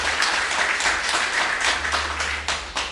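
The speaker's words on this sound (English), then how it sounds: "Another round of applause, ladies and gentlemen." An audience applauds after a presentation by a professor, giving steady, dense clapping that holds level for several seconds and then thins slightly near the end.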